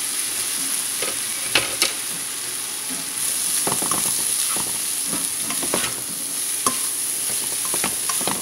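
Soaked poha (pressed rice) being stirred in a pan over medium heat, with soft scraping strokes and irregular clinks of the spoon against the pan over a faint steady sizzle, close and without talk.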